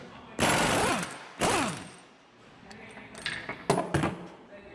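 Air impact wrench, a $200 gun, removing a nut hammered on by an Ingersoll Rand 2235TiMAX; two loud hammering bursts, each about a second long, then quieter scattered clanks and taps.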